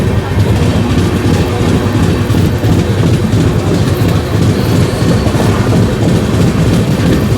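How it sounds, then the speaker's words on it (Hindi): The Amrit Bharat Express on the Govindpuri to New Delhi run picks up speed, heard from on board as a loud, continuous rumble with rhythmic clattering wheels and rattling carriage noise throughout. "देखते हैं, हमारी ट्रेन में स्पीड धीरे धीरे पकड़ रही है।"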